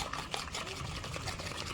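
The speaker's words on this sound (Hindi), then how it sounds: "अभी नहीं बन रहा है तो हम इस पानी को डाल लेते हैं।" Water trickles and pours into henna paste in a bowl, a close, steady liquid splashing and dribbling sound that runs continuously through the short stretch.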